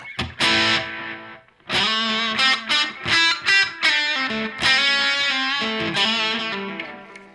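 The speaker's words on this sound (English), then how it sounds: "You can kind of hear the 2 different times offsetting each other there." A distorted guitar phrase played through an Echorec-style echo unit set to two different delay times, the repeats overlapping and offsetting one another into a dense, continuous wash that sustains and slowly decays at the end.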